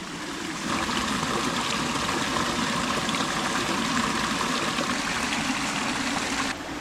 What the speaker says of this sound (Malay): So anak sungai ni akan bercantum dengan sungai Batu Berangkai.